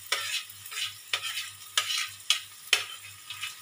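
Onion and green chilli being stirred as they fry in a pan for an egg singara filling: a spoon scrapes through the pan in repeated strokes, roughly every half second to second, over a steady sizzle, with no talking.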